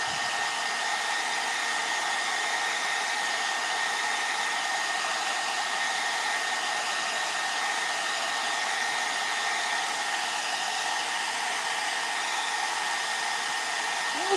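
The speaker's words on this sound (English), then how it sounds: "I'm just going to dry it real quick with the cool setting." A hair dryer on its cool setting blows steadily at close range over a bleach-dyed flannel shirt, a loud continuous whooshing roar with no pauses for the full duration.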